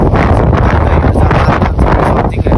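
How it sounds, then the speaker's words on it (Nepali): Cold wind blows steadily across the microphone in open country on a Mustang trip in Nepal, a loud continuous roar and buffet with gusts, filling the whole clip. "यस्तो हावा नि चल्छ चिसो"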